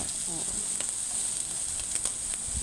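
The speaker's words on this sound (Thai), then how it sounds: "เราก็จะย่างไปเรื่อย ๆ จนเป็นที่พอใจนะคะ" Pork sizzles steadily on a grill, a continuous bright hiss with small pops and crackles, close and even in volume, with a faint voice briefly underneath.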